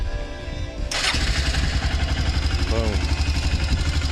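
A motorcycle that has sat unused for a few months fires up after a key-on pause and settles into a steady, slightly high idle with the choke partly on, close and loud, with a brief spoken word near the start.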